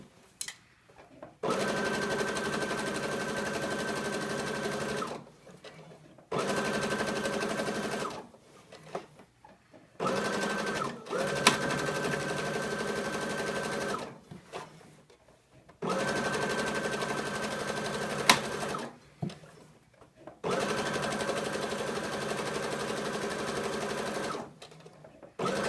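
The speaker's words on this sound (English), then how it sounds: "So we're going to go back over the same line again, just to reinforce the stitch." A sewing machine runs back over a seam to reinforce the stitching on a jumpsuit, whirring in several steady bursts of a few seconds each, separated by short quiet pauses.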